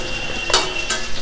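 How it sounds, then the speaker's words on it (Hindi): Black mustard seeds and onion frying in hot ghee for a tadka, a steady close sizzle broken by two bright spattering bursts. "पहले मैंने घी डाला और घी के तड़का लगा रहे हैं हम लोग"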